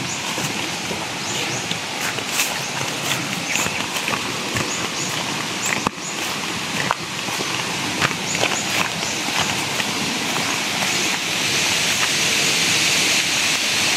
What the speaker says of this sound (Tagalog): malapit na kami sa Limestone Waterfall.